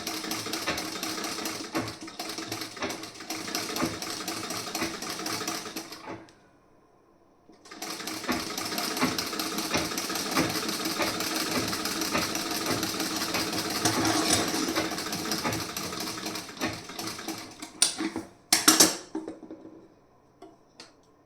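A sewing machine stitching blouse fabric runs in a fast, steady whir, stops briefly, then resumes for a long stretch before a few closing clatters.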